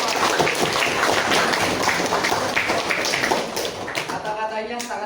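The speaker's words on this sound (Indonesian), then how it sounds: "beri tepuk tangan untuk kita semua." A group claps energetically for several seconds, dense applause that thins slightly toward the end.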